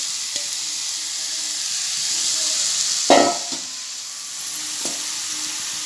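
A coconut and jaggery mixture cooks in a kadhai over a low gas flame, giving a steady soft sizzle and hiss with a brief louder stir or scrape midway.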